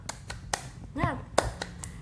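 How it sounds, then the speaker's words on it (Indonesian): A school class does a rhythmic clapping chant: sharp, close claps in a quick pattern, with a short shouted word from the group in the middle. "Tepuk semangat."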